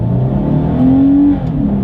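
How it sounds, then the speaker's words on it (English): 2020 Lexus IS 300 F Sport accelerating hard under full throttle, a loud close engine drone whose pitch climbs steadily then drops briefly at a shift, heard from inside without talk. "Let's do a quick little acceleration with the car having full control, and let's see how quickly we can get this one here up to speed"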